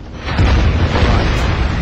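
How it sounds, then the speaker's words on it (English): A deep, rumbling blast from the video game SpyHunter: Nowhere to Run swells up and booms heavily, its low roar sustained for a couple of seconds. "Look at that explosion."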